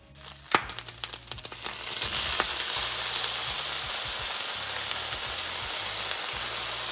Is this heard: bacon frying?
yes